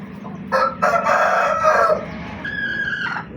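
An Aseel rooster crows loudly nearby, followed by a second crow, with hens clucking faintly around it.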